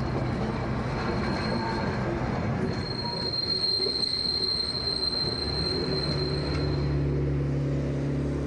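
A DB V60 diesel locomotive climbs a steep grade on the Wieslaufbahn railway line, its engine rumbling steadily while a long, high wheel squeal rings over it; close and loud, with no talk.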